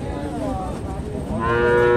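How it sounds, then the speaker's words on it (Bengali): A large Sahiwal cow at a cattle market in Naogaon moos, a low, sustained call rising over a busy market background. "বিগ বডির একটা গরু।"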